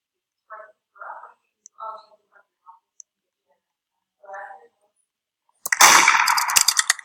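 Gunfire in a video game duel between a sheriff and a murderer: a loud, sharp burst of shots near the end, preceded by scattered soft clicks and short murmured sounds.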